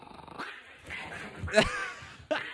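A dog growls and barks while chasing another animal away from food, with scrappy snarls and a sharp yelp-like burst midway, followed by another quick bark near the end.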